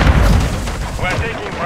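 A grenade goes off in the video game Call of Duty Modern Warfare III with a heavy, booming blast at the start, followed by rumbling battle noise and shouted voices.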